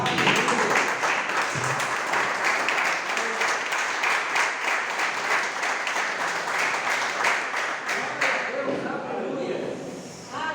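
A church congregation claps in praise, with dense, steady applause filling the room for several seconds before thinning out, and voices heard beneath it.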